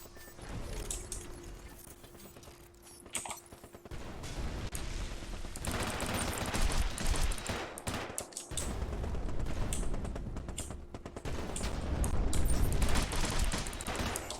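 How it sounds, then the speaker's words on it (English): Machine gun fire in a video game battle, rapid bursts that stop and restart, loud and close with a clattering mechanical edge and a background hum, with no voices. "I got a machine gun."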